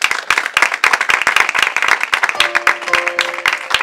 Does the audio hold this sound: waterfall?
no